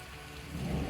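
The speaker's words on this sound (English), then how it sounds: "I'm not sure if you can hear the rain just now." Steady heavy rain drumming on the metal tin roof of a small home gym, a dense hiss that swells slightly louder toward the end, with no voices.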